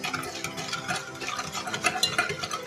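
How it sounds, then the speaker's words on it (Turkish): A spoon stirs yeast and sugar into a liquid mixture for a yeasted savory pastry dough, giving close, steady scraping and clinking against the bowl in a continuous rhythm with no talk. "Şöyle biraz karıştıralım erisin içindeki"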